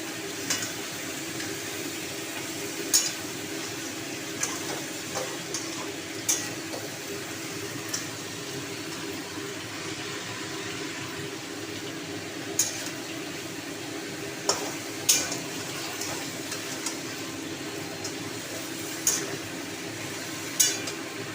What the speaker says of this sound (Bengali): দেখো ভালো করে কাঁকড়াটা খুব সুন্দর করে কষিয়ে নিতে হবে, যতক্ষণ না তেল ছাড়ছে ততক্ষণ কষাবে।